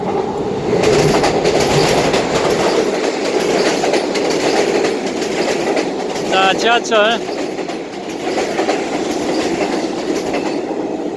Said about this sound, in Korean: 지하철 2호선이 잠실철교 남단 잠실 나루역에 진입하고 있습니다.